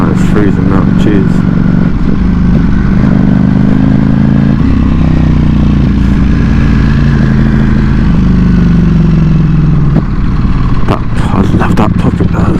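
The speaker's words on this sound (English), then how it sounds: "Just before it goes, drops right low into the revs, it just pops nicely." A Ducati Panigale V4S motorcycle engine drones loud and close on a cold night ride, revs shifting and dropping low with a few sharp pops near the end, while a rider talks over the engine.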